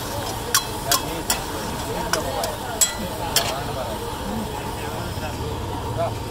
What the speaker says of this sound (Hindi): झींगा कढ़ाई बन रही है